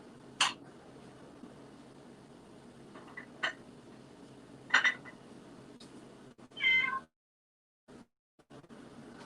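A cat meows several times in a home kitchen during cooking, with short, faint, scattered calls and one longer, louder meow near the end, followed by quiet.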